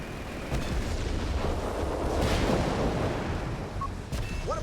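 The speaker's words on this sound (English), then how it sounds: "Scott moving forwards here, bombarding the German lines here." Artillery bombardment of German lines in the World War II strategy game Company of Heroes 3, heard as a sustained, loud rumbling barrage of blasts and gunfire, with no talking.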